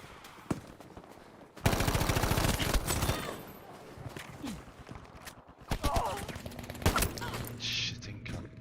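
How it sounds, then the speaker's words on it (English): An MG42 machine gun in a video game fires a loud, rapid burst lasting over a second, followed later by shorter volleys and scattered shots, with a voice talking in between. "MG42."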